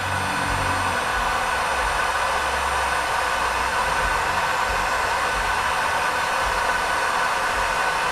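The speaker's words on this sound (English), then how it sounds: "Now, I'm just going to blow this in" A heat gun blows hot air steadily to shrink a handmade DIY necklace, a loud, constant, close roaring hiss that runs without a break.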